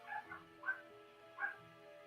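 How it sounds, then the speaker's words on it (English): A dog gives a few faint, high yipping barks spaced apart, distant and quiet against a steady electronic hum in an indoor setting. "you're going to hear Roxy bark"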